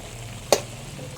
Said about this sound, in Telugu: అల్లం వెల్లుల్లి పేస్ట్ వేసుకుని వేయించుకున్నాం.